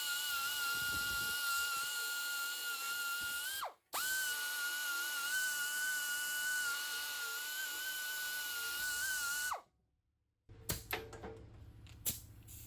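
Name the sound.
pneumatic belt sander cleaning up weld edges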